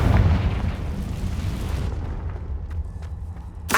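In the video game Hogwarts Legacy, a Confringo blasting spell lands with a heavy boom at the start, then a long rumbling decay fading toward near silence, and a sharp crack right at the end.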